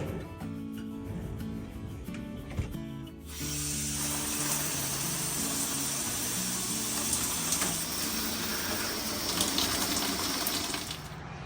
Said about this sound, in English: I think it is time for a shower.